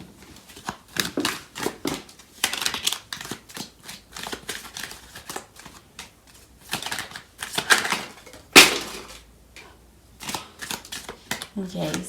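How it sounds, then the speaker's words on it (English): Tarot cards pulled from a deck and handled during a love tarot reading: a quick, irregular run of crisp card flicks, slaps and snaps, close and fairly loud, one sharper snap near the end. "So I'm going to pull out some cards from the other deck."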